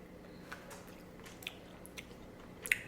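Soft, close chewing and biting of gummy bear candy, quiet and squishy with a few brief louder smacks.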